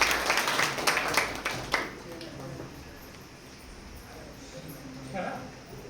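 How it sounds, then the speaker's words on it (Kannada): A small group at a children's Bible memory verse gathering claps their hands in a short, fairly faint burst of applause, followed by quieter room noise and murmured talk. "ಎಲ್ಲ ಚಪ್ಪಾಳೆ ಹೊಡಿ."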